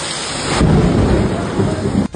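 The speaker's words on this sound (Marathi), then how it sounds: "त्यावरून लागला पाऊस पाराला." Heavy rain falling steadily with a deep roll of thunder swelling in, loud and close throughout.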